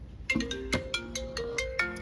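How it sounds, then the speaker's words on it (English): An incoming phone call from a DIY home security system with facial recognition rings as a bright melodic ringtone: a quick run of clear electronic tones repeating in a rhythmic pattern, close and alone without talk. "and we have a phone call"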